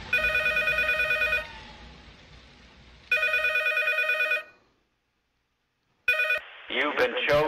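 A phone in the horror game P.T. rings in repeated electronic trill bursts with pauses and silence between them, close and loud over an eerie ambient hum, and a voice speaks briefly at the end.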